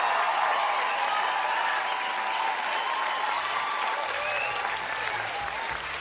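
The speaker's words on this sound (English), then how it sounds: "Give her a round of applause." Sustained applause from a large concert audience at the JUNO Awards in Vancouver, loud and steady for the whole stretch with faint crowd noise mixed in, slightly thinning toward the end.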